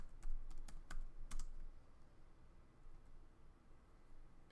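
A quick burst of a few crisp keystrokes on a computer keyboard while entering SQL table values, then quiet room tone for the rest.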